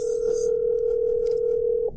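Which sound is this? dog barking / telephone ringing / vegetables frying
telephone ringing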